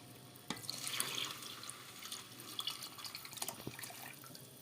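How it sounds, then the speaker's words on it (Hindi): Milk poured into a pot of chai simmering on a home stove gives a soft, continuous liquid splashing and trickling, fairly faint and close, with a few small drips and no talk. "अब इसके अंदर हम दूध डाल देंगे।"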